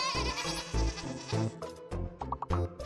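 A goat carried in a tote bleats again and again, close and loud, in a string of wavering cries separated by short gaps, with no talk over it.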